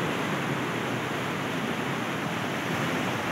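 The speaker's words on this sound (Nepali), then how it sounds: "यो तल बगिरहेको मर्स्याङ्गी नदी" The Marsyangdi river rushes below Chame in Manang, a broad, steady roar of flowing water that stays constant and full throughout, with no voices or other sounds over it.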